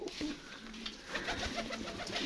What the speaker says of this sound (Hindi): ये जी माशाल्लाह सियालकोटी कबूतर और ये इनका पार्क होता है दोस्तों